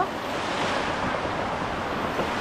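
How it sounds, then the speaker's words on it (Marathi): Heavy rain pouring outdoors, a steady broad hiss with no pauses, fairly loud and close throughout. "भारी पाऊस लागतोय एकदम मस्त"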